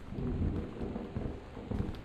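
Rain and rumbling thunder from the exploration game Gone Home, a steady low roar with denser rolls near the start and end, fairly loud and alone without talk.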